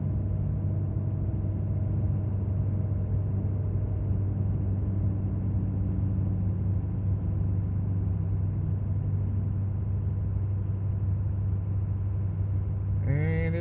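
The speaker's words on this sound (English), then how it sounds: "if you hear the fan right now, it's starting to drop off." A 6.7 Powerstroke diesel pickup with 210,000 miles runs at high idle after a cold start, its engine and cooling fan making a steady, close, unbroken rumble with a slight change near the end.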